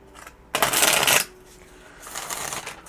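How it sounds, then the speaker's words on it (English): Tarot cards are riffled in one quick, crisp shuffle close by, followed by a softer second stretch of card handling and sliding. "Oh, I love that shuffle. That was beautiful."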